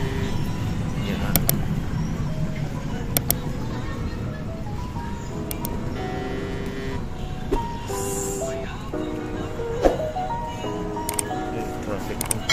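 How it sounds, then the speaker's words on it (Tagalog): Street traffic noise in Boracay, a steady low rumble of passing vehicles with scattered clicks and a faint horn-like tone, heard under people talking nearby. "Traffic."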